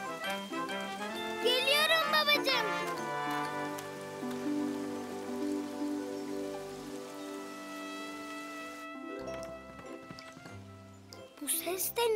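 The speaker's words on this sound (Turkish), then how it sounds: "Yağmur başladı." Steady rain patters on a surface throughout, mixed with music and brief children's chatter in an animated cartoon, then the music shifts near the end.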